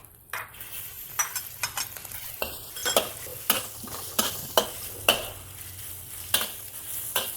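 Steady sizzling of shrimp stir-fried with ginger in a hot pan, with repeated scraping clacks of a utensil stirring and tossing, close and continuous, no voices.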